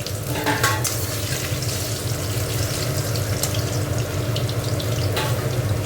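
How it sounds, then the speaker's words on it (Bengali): Potato pieces fry in hot oil in a wok, giving a constant crackling sizzle with a low bubbling bed underneath, close and steady throughout. "তেল গরম হয়ে গেছে, আলুটা ভেজে তুলে নেবো।"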